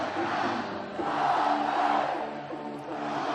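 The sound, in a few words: football stadium crowd cheering louder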